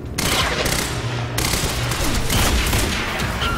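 Gunfire in the video game Quantum Break: loud, sustained rapid bursts of shots with booming impacts, dense and continuous across the whole stretch.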